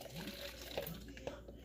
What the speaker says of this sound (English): just a little bit of hot water just to help the lift off dissolve quicker